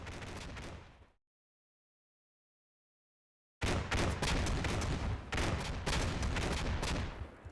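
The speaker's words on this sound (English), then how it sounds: "And he responds with large machine gun fire, and we take casualties." Heavy machine gun fire and other gunfire in the Combat Mission: Black Sea war game: a loud, dense burst of shots, a sudden silent gap, then sustained rapid fire with cracking reports.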